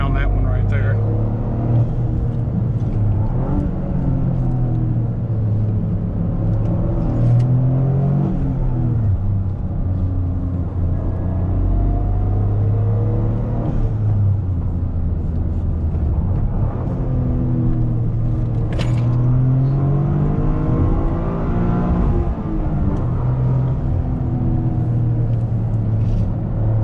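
Heard from inside the cabin, a Toyota GR Corolla's engine repeatedly climbs in pitch under hard acceleration and drops back through shifts on a winding road, loud and sustained, with people talking over it.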